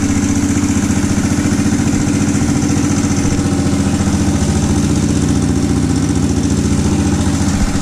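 A Honda TRX400ex ATV fitted with a new jacket idles steadily in cold weather, its engine chugging in an even, rapid low-pitched rhythm with a faint clatter throughout, loud and close with no voices.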